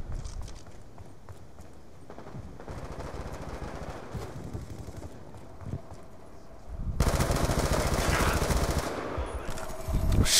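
Gunfire in the video game Call of Duty: Black Ops 2, with scattered shots that build into sustained rapid automatic fire and dense bursts in the latter half.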